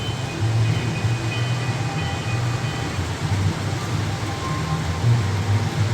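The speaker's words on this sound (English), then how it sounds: "Oh, there comes a train." A small model train in a Christmas ice exhibit rumbles steadily along its track with a low, continuous mechanical hum, no voices present.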